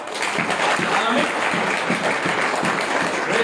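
A church congregation claps for Jesus in a loud, steady burst of applause, dense and unbroken throughout, with no speech over it.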